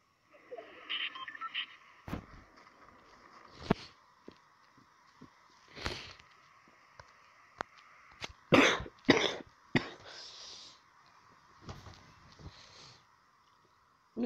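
Repeated coughing bursts and throat clearing break out irregularly from a gamer playing Fortnite, some single and some in quick clusters, close and fairly loud against a quiet background with faint electronic game sounds.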